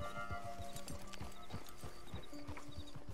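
Horse hooves in Red Dead Redemption 2 clip-clop in a steady, even rhythm, with a faint whinny-like tone underneath against a constant low background hum.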